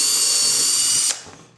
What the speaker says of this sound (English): we take a 5/32 bit and we drill out our mounting holes because the original Ford ones were a bit small